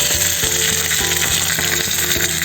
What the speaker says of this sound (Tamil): கடுகும் சேர்த்துட்டோம் கொஞ்சமாக முந்திரி சேர்த்துடலாம் கொஞ்சம் கருவேப்பிலையும் சேர்த்துடலாம்